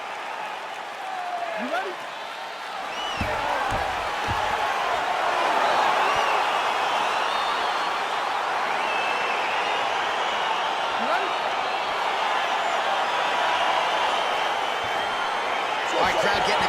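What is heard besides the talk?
crowd cheering in UFC 4 video game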